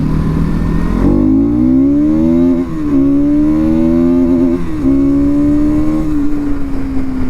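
A 2024 Bajaj Pulsar NS200 engine revs hard and close, rising in pitch and bouncing off the rev limiter several times in a row, with no speech.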